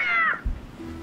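A cat meowing in the Tintin Reporter video game: one loud, drawn-out, falling meow up close, followed by a short low thump and a quiet hum.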